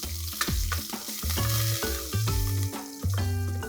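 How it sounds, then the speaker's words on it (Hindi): Peanuts fry in hot oil with curry leaves and asafoetida, giving a continuous sizzle under loud tonal background music, with a few sharp knocks and stirring scrapes. "मूंगफली को अच्छे से 1 मिनट के लिए मैं तल लूंगा तेल के अंदर"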